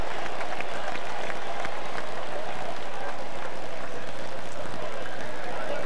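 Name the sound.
baseball stadium crowd cheering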